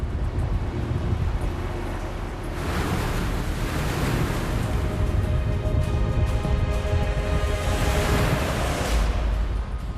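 Rough sea during a fishing boat's net-hauling work, with strong wind gusting over the microphone and heavy waves surging and crashing in a continuous loud roar, swelling in bursts without any talk.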